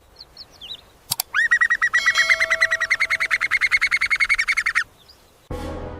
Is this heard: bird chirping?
yes